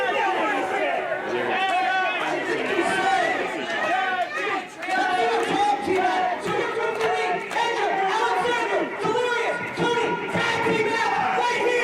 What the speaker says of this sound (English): This crowd is coming unglued at the prospect.